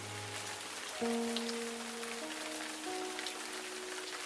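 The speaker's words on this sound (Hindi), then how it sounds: "चारों ओर अजीब शांति है, सिर्फ बारिश की आवाज।" Steady soft rain patters throughout, with faint sustained musical tones drifting underneath.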